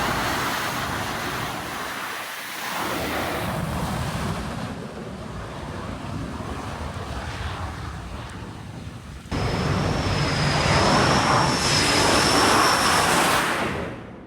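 Aircraft activity on the flight deck of the carrier USS George H.W. Bush: a steady roar of jet engines and wind with a loud surge partway through and a high whine rising over it, with no talk.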